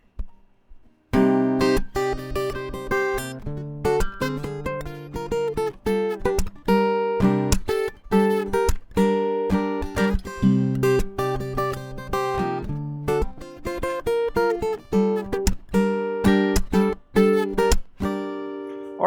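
An acoustic guitar plays the melody of a pop song, mixing picked melody notes with full strummed chords in a steady rhythm, close and clear, with no talking.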